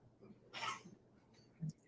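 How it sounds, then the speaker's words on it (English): A single soft cough rises from the quiet of a courtroom during trial testimony, followed by a faint low throat sound, distant and brief against hushed room tone. "there was coughing"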